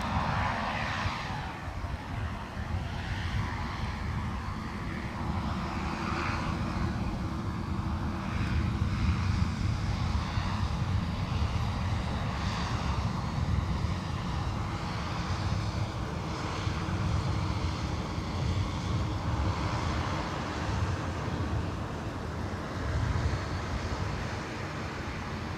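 Airliner jet engines roaring at Minneapolis–St. Paul Airport, a loud, steady, broadband rumble and whine that holds for the whole stretch without pause.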